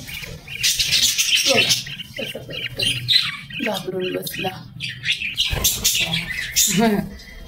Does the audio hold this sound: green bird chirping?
yes